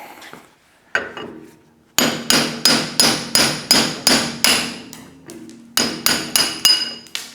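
Sharp metallic ball peen hammer blows on a drift ring out, driving out an axe handle, a few spaced strikes then a rapid run of evenly timed hits, close and loud with bright ringing overtones.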